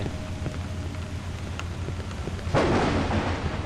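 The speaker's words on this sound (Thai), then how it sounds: "มีฟ้าผ่านนะครับ" Thunder cracks and rumbles in the horror game Cry of Fear, a loud rolling burst rising over steady rain-like ambience partway through.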